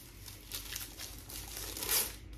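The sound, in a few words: crumpling plastic wrapping while unboxing a Redmi phone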